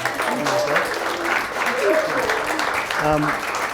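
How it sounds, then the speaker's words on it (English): Applause from a small gathering welcoming special guests at a casual event, moderately loud and continuous, with people talking and calling out over the clapping. "Maybe give them a round of applause for showing up"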